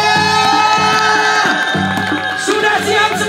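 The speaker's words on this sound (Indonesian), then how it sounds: "Tepuk tangan dulu buat semuanya" A crowd at an Indonesian Independence Day game event cheers and whoops loudly, with shouting voices and excited noise filling a short burst.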